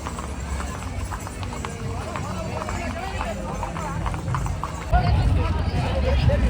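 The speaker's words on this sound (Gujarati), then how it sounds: "દોસ્તો જો ઘોડા આવી ગયા છે." Horses' hooves clip-clop on the road during the Rathyatra procession in Bhavnagar, a steady busy patter under crowd noise and a commentator's voice, growing louder near the end.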